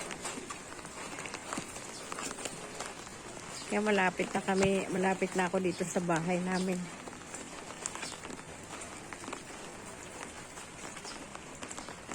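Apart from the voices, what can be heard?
wind and rain storm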